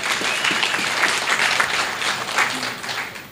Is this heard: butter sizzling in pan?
no